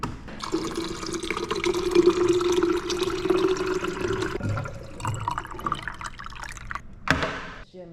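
Water dispenser at a public gym filling a bottle: a steady, close stream of running water with a rising fill tone, continuing for several seconds, then a brief clunk near the end.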